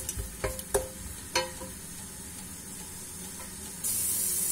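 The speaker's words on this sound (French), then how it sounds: "Je vais faire revenir un petit peu, juste le temps que les oignons ils se ramollissent." Onions sizzle quietly as they soften in a hot pot, with a few sharp clinks of a utensil stirring near the start and a steady soft hiss throughout.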